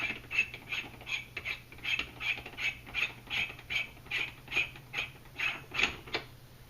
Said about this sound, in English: Now take the adapter and the buffer tube and screw them together.